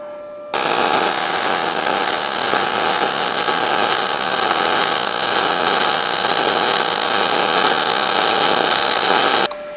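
An Arc Captain MIG 200 welder lays a MIG weld with synergic settings running a bit cold, giving a loud, steady crackling buzz that starts abruptly, holds for about nine seconds and cuts off sharply.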